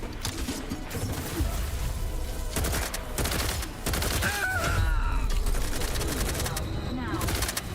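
Gunfire rattles through a combat scene in The Outer Worlds 2, with sustained bursts of automatic shots over constant rumbling background noise and a few short pauses.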